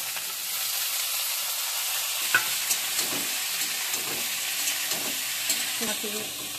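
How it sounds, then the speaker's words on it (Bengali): Vegetables are stir-fried in a pan with cumin, chopped ginger and green chilli: a constant close sizzle with periodic scraping knocks of a spatula against the pan. "এবার আমি সবজিগুলো ঢেলে দিচ্ছি"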